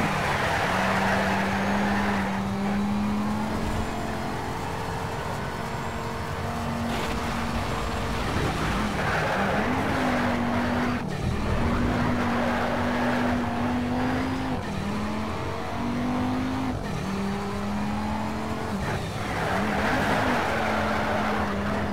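A race car engine in the NFS Shift driving game drones and revs continuously, its pitch rising and falling through gear changes, with brief tire squeal, loud and alone without talk.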